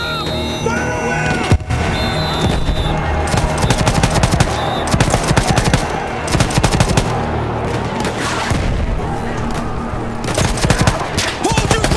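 Sustained machine-gun fire and scattered explosions on a Battlefield 1 battlefield, loud and continuous, with distant shouting mixed into the din.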